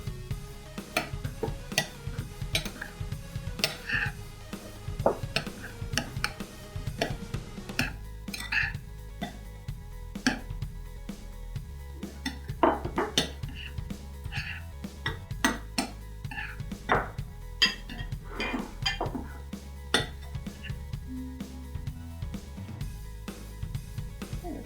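A spoon clinks and scrapes around a mixing bowl while flour and lemon zest are stirred together for lemon bars, giving a busy run of close, light knocks and rattles over about twenty-five seconds.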